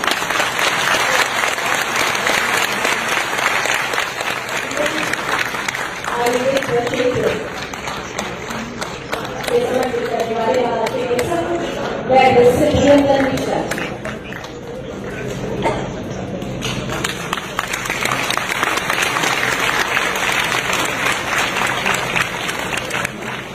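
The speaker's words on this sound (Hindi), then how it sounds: "तालियों के साथ" A large audience applauds in sustained waves at the opening of an Ayurveda festival in Rajgir, the clapping dipping midway under some voices before swelling again.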